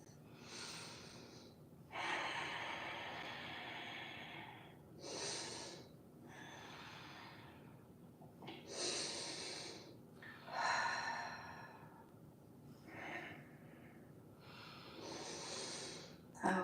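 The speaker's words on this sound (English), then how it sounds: "just focusing on deepening your breath" Slow, deep breaths during a held yoga pose, each long inhale and exhale rising and fading in an unhurried rhythm, close and quiet with no talking.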